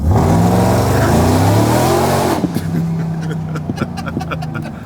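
A Ram TRX truck with a 900 HP Demon package upgrade revs and accelerates in a parking lot, a loud rising engine roar that drops off sharply partway through, leaving a lower rumble with a voice talking over it.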